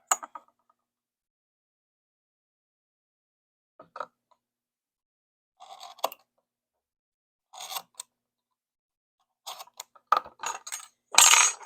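A leather belt keeper being cut square, heard as a few sparse, close clicks and crunching cuts separated by silence, growing denser toward the end, with no talking.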